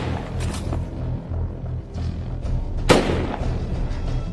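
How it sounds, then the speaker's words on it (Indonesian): Gunfire in an action film scene where a man is shot from behind, heard as a dense, rumbling soundtrack with repeated thuds and one sharp, loud gunshot crack near the end. "Amin diikuti Zahev dan ditembak dari belakang."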